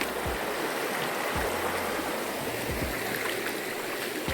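A flowing river stream in Jamaica gives a steady, broad rushing babble close by, with a few soft low knocks and no voices.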